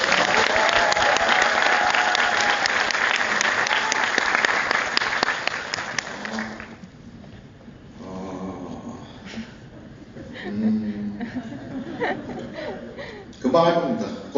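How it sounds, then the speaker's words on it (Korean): An audience at a one-day lecture class claps loudly and steadily for about six seconds, then the applause stops and someone talks while a few people chuckle. "떨리니까 박수 좀 주십시오."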